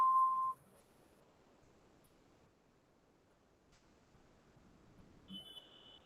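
A phone rings with short electronic beeping tones, one at the very start and another higher tone near the end, over an otherwise quiet indoor background.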